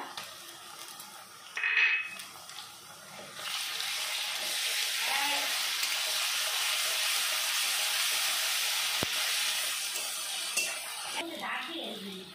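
Ginger and garlic paste goes into a pan of fried onions and sizzles steadily, a broad hiss that rises after a few seconds and carries on, with a brief clink of a utensil early and near the end.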